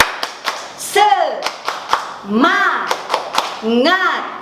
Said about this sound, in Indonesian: Yuk kita tepuk semangat, tepuk semangat